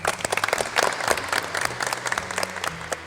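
Automotive vocational students clap in a classroom at the end of a lesson, a short burst of scattered, uneven hand claps from a small group, fairly close and steady for a few seconds.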